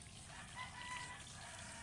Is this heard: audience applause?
no